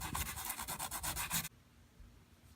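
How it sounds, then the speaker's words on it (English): Sandpaper rubbing back and forth over a damaged boat hull in a quick, steady rhythm of close, loud strokes, stopping abruptly halfway through and leaving quiet room tone. "we're going to take the sandpaper and we're trying to get out of that, and we're trying to get it as smooth as we possibly can"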